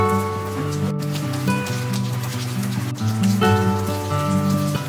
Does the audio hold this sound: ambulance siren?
no